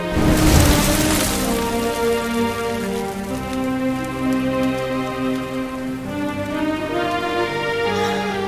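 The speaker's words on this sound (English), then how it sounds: "Looks like the rain's dying down." Steady, dense rainfall in the fantasy role-playing game Dragon Quest XI near the ruins of Dundrasil, a continuous close hiss of drops with a tonal musical score running beneath it and no talking.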